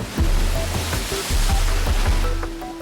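Atlantic Ocean waves surging against the base of a 300-foot cliff, a loud continuous roar of rushing water and surf with repeated low thumps.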